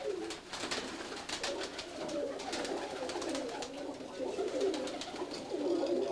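Several pigeons coo softly and repeatedly indoors, overlapping low murmuring calls with light rustling in the background.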